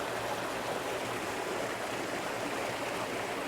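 Rain-swollen water rushing through the sluice gate of an old French countryside wash-house, a steady broadband roar that fills the clip without pause or voices.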